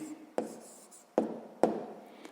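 Pen writing on paper during a sixth-grade math exercise, three quick scratchy strokes close up with soft rubbing between them, quiet with no talking.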